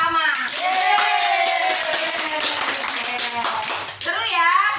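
Children clap rhythmically together in a classroom clapping game, the claps sounding crisp and close alongside chanted speech by young voices throughout.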